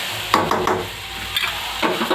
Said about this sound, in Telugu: కలిపి ఒక 5 నిమిషాలు ఆయిల్లో ఫ్రై చేసుకోవాలి